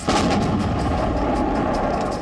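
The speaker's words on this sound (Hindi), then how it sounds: "रूस की तोपें यहां पर गरज रही हैं" Russian artillery guns firing in a war zone as military tanks advance, a dense continuous roar of booms and blasts running without a break, loud and close, with no voices.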